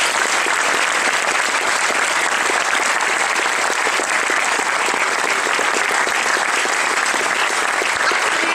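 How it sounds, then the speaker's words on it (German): Loud, sustained applause from a science slam audience fills the hall, a dense, steady wash of clapping hands at an even level from start to finish. "ein kräftiger Applaus."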